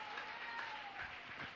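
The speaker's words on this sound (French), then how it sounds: "Acclamons pour la parole de Dieu." Church congregation applauding during a worship service, a brief, faint wash of clapping heard at a distance.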